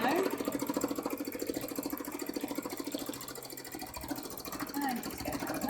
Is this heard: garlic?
no